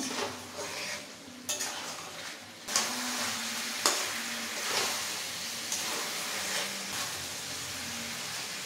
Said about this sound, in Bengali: হাফ ক্যাপসিকাম দিয়ে দিলাম। আরও কিছুক্ষণ কষিয়ে নেব।